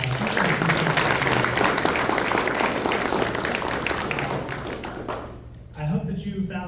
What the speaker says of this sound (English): Let's give our candidates one more round of applause.